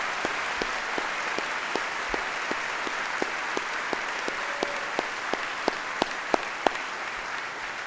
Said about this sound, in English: Please join me in a round of applause to acknowledge their service and to express our gratitude.